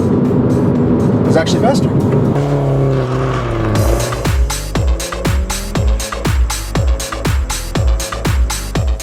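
A VW Golf R or MINI Cooper S Coupe launches hard from a standstill at mile-high altitude, its engine revving up through rapid, evenly spaced gear-like pulses that climb in pitch again and again, loud and close beneath steady talking.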